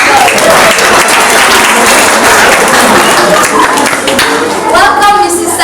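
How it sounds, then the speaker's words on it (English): An audience at a school Grade 5 learning celebration applauds loudly and continuously, dense clapping filling the whole stretch with a few voices faintly audible underneath. "Give her a round of applause."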